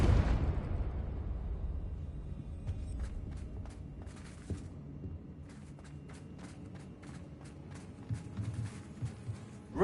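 Confringo fire spell from the Hogwarts Legacy video game, a loud blast at the very start that fades into a rumbling tail, followed by scattered softer impacts and shuffling game sounds.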